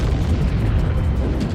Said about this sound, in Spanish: La bomba, que se probó aquí hace 70 años, convirtió la noche en día